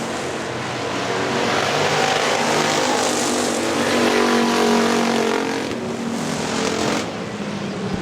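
Factory stock cars roar around Hartford Speedway Park in a steady, loud drone of racing engines, holding near-constant intensity with a slight swell midway and a dip near the end.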